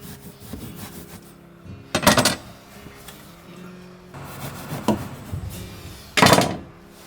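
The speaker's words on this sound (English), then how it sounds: "Since there's a floor, I lay the insulation across it instead of fitting it." Two layers of 120 mm fiberglass insulation batts are laid across an attic floor. Soft, continuous rustling is broken by two louder, close brushing thumps as the batts are dropped and pressed into place.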